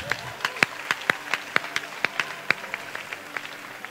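Church congregation clapping in unison during a sermon, sharp claps in a steady quick rhythm, fairly close and loud with no other sound between them.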